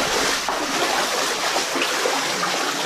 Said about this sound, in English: there's a lot of water dripping off the ceiling